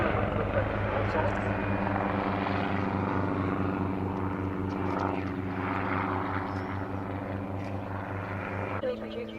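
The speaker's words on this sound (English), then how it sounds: "It's a very manoeuvrable light helicopter, the Schweitzer 300" A Schweizer 300 light helicopter with a fully articulated three-bladed rotor performs at an air display at RAF Mildenhall, its steady droning engine and rhythmic rotor beat loud and continuous throughout, with a voice talking over it.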